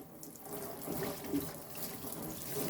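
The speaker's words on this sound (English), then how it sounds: "So let's get this all rinsed up here." Tap water runs steadily into a sink, rinsing soap out of glass test tubes being cleaned for an ant setup, a continuous close splashing hiss for a few seconds with no talk.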